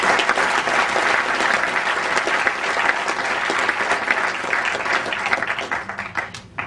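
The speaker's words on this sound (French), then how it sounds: "on les applaudit bien fort s'il vous plaît" An audience at the awards ceremony of the Strasbourg European Fantastic Film Festival applauds loudly and steadily for the whole stretch, a dense, even wash of many hands with no pause, easing slightly near the end.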